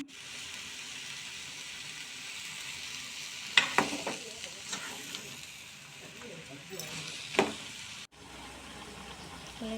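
Cluster beans gravy being stirred in a pan, giving a steady sizzling hiss with scattered scraping clicks from the spoon and low, indistinct talk underneath.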